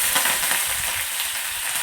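Green chilies dropped into hot oil in a pan for a Palakkad-style chili tamarind curry crackle and sizzle loudly and continuously, close up.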